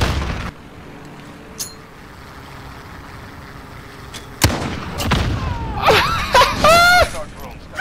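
A video game grenade goes off with a sharp boom, followed by a burst of bright crackling and whistling tones amid game noise, with a faint voice in the background.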